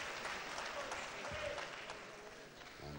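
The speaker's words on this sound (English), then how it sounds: "And you can tell by the applause who the favorite is here, of course." Crowd applauding at a 1970s professional wrestling bout, a sustained, fairly distant clapping roar with some crowd noise, and a commentator talking over it.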